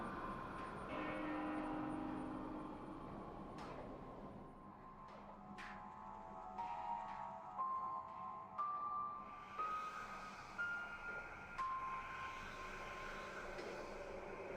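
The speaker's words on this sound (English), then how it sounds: "That's the bell we hear." Bell chimes ring out at Elysium in Xenoblade Chronicles 2, a series of clear, sustained tones struck one after another over a steady ambient wash, moderately loud and without talk.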